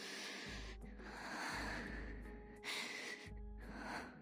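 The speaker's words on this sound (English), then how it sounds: "Such heavy breathing in my ear." Heavy, close breathing from a character in the Reverse 1999 video game, with loud pulsing breaths and gasps repeating in slow waves over a steady low hum, no talk.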